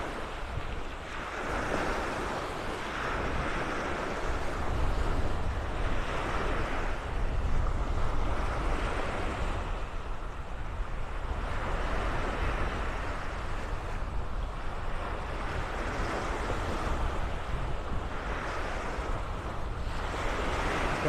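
A southwest wind gusts across Vanderbilt Beach in North Naples, Florida, roaring and buffeting the microphone in a steady, full rush, with surf washing faintly beneath and no voices.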